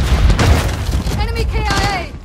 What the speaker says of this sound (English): Toss the grenade!